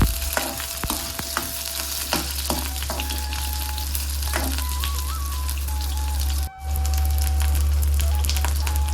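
Fenugreek, dried chillies and onion fry in hot oil with a steady, dense sizzle throughout, close and loud, broken by a brief dip near the end.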